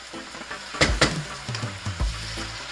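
Steak strips fry in a pan, with a soft sizzle broken by a few sharp clatters and scrapes as the meat is stirred, fairly close.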